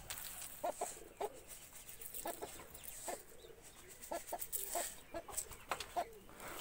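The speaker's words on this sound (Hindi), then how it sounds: "जो है लाली मुर्गी अभी तक बंद है।" A hen clucking at a mini zoo, with repeated short clucks in irregular bursts, fairly close, against a busy background of other birds and outdoor noise.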